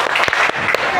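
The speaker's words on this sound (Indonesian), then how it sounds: "Kita buat tepuk semangat dulu." A classroom of students clapping a rhythmic cheer in unison, loud and close, with a few sharper clap accents over a broad, busy wash.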